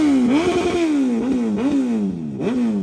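A superbike engine at a Sunday group ride revs up in repeated throttle blips, its pitch climbing and falling about four times in three seconds, loud and close with a rough mechanical edge.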